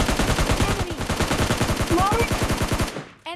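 Rapid automatic gunfire from the mobile shooter PUBG Mobile Lite crackles in loud, steady bursts, close and continuous for several seconds before cutting off abruptly.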